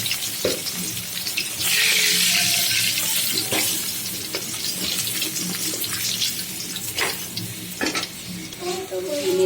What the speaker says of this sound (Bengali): পেঁয়াজগুলো দিয়ে নিয়েছি, ভাজা হয়ে গেছে।